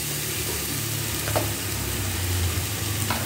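Green chili and onion paste fries in oil in a home kitchen pot, a steady broadband sizzle running unbroken throughout with a faint low hum beneath and a couple of light clinks.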